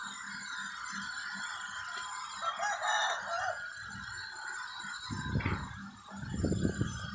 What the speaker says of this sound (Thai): ไก่ปลามันขันเสียงแหลมแหลม